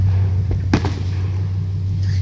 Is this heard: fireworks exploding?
yes